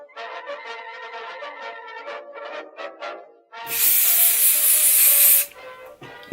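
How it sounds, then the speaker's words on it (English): Hairspray hisses from a can onto a vintage pinup hairstyle in one loud, steady burst of about two seconds. It follows a stretch of softer, rhythmic rustling from handling the hair. "Just gonna apply my hairspray again"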